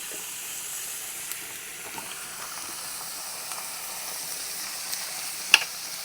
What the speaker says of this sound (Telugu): వంకాయలు, టమాటాలు, పచ్చిమిరకాయలు, ఉల్లిగడ్డలు మొత్తం ఇలా బాగా కలుపుకోవాలి